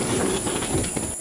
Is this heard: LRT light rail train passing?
yes